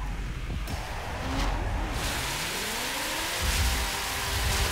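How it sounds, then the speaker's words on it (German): Rain hisses steadily in The Crew Wild Run racing game, heard alongside the car's engine revving during a drift, with no speech. "Und es regnet, natürlich regnet es."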